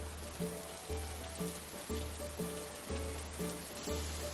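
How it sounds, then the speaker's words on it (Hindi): Heavy rain pours steadily outside a train during a flood, a dense continuous hiss with a repeating tonal pattern running underneath. "सिर्फ बाहर से बारिश की डरावनी आवाज"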